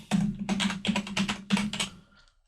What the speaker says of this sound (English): people are just going to hear the typewriter a little bit right there